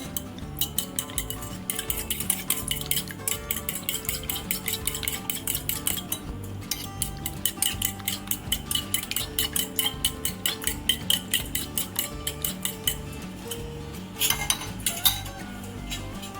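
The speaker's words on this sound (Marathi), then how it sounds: "त्याच्या आधी मी काय करते याला फेटून घेते" Eggs for a rolled Japanese tamagoyaki omelette, mixed with masala, whisked briskly with a fork in a bowl, producing a fast, steady series of close metallic clicks and taps that pause briefly and resume, with no voices.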